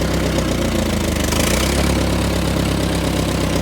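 A Ford 8N tractor engine runs steadily and loudly throughout, a constant low chugging idle, with a slight change in tone partway through as the gears are shifted.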